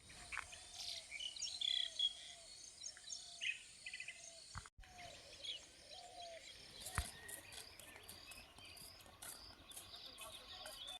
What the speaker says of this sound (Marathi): असा म्हणजे पक्ष्यांचा आवाज येत आहे,